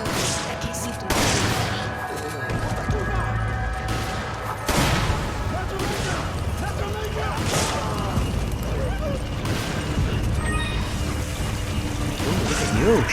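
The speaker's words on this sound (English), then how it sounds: "Look at you shooting them down." Gunfire while shooting down enemies in Resident Evil 5: scattered shots and impacts crack through a dense, noisy game mix, with talking over much of it.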